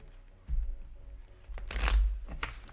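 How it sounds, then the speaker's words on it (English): A deck of cards is shuffled up close in a few quick riffling bursts, with soft handling thumps between them and no talk. "These are surprisingly easy to shuffle."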